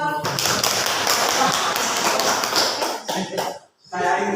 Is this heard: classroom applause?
yes